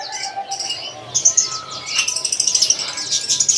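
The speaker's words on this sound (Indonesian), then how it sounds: "di sini ada yang namanya burung perkutut golden" Golden zebra doves and other caged birds at a busy East Java bird market kiosk, with bright chirps and rapid trilling calls up close over faint background chatter.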